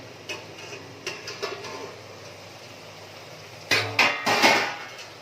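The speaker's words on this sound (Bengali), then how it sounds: "এবার ঢাকনাটা একটু খুলে দেখি এটা কদ্দূর হয়েছে" A metal lid is lifted off a cooking pot of bean and potato curry, giving a few close clanks and clatters in quick succession against a quiet kitchen background.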